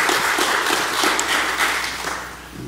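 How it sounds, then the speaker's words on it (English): A congregation at a church announcements gathering gives a round of applause to thank a volunteer, a full, even burst of many people clapping from start to finish. "can we give her a round of applause for helping"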